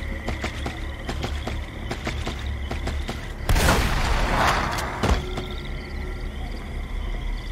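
A few gunshots ring out in a video game, a sharp loud burst followed by a lighter shot, set against a steady background of game ambience and clicking.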